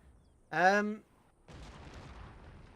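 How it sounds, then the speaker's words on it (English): Cannon fire strikes units in the video game Empire: Total War: a short tonal blast rings out, then a broad, rumbling wash of noise from the barrage follows and lingers to the end. "You're not supposed to hit me with cannons."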